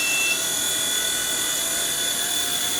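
An H911 iRocket RC helicopter hovers in place, giving off a constant, loud, high-pitched motor and rotor whine that holds steady without pause.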